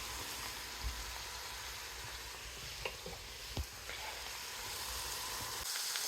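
Mushrooms frying in a pan for vegan mushroom soup give a faint, steady sizzle with occasional soft stirring clicks and taps, close but quiet.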